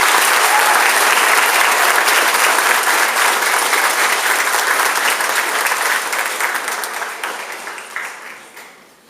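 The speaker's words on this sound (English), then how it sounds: "Let's give these students a big round of applause." Loud, dense applause from a school audience at a sixth grade awards ceremony, sustained clapping that holds steady and then tapers off toward the end.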